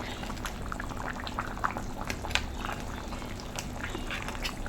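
Kerala-style crab curry bubbling in a pot as the oil separates, a steady soft boil of popping bubbles and small liquid plops, close and continuous with no voices.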